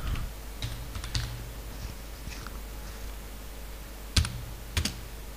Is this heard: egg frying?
no